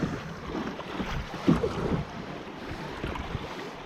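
A canoe runs through small river rapids in the gorges of the Hérault, with rushing water and wind buffeting the microphone, plus a brief splash or knock midway.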